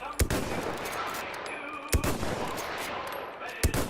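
A rifle fires single shots in the World War II shooter game Call of Duty WWII, with three sharp, loud gunshots spaced well apart over a constant background of battle noise and ambience.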